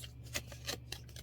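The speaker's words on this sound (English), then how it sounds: "I'm shuffling." Tarot cards are shuffled by hand in short, soft riffling bursts a few tenths of a second apart, close by and quiet.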